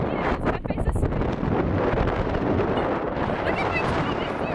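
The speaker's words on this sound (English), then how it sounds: "Look how windy it is." Heavy wind buffets the microphone in loud, rumbling gusts, with a voice faintly audible beneath the roar.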